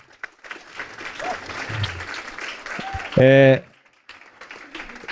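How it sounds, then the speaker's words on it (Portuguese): Applause for children's literature authors at a Vitral event, a short burst of clapping under a presenter's voice and crowd chatter, ending in a loud spike before talk resumes. "Gente, eu queria que vocês dessem uma salva de palmas para esses nossos autores aqui."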